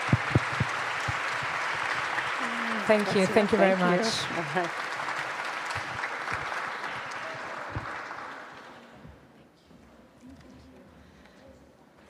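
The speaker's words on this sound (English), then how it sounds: "Please give a big applause to our speakers" Audience applause for the panel speakers at an evening session in a lobby, a dense roomful of clapping that swells and then dies away, with a brief spoken thanks and some voices over it.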